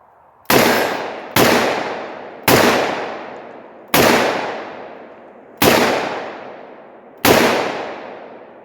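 Six loud, close shots from a .44 Magnum revolver with a 7.5 inch barrel firing soft point rounds, each a sharp crack with a decaying echo, spaced about a second or more apart.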